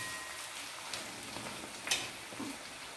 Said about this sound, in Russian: Сейчас немножко обжарю еще лучок морковку с мясом и грибами.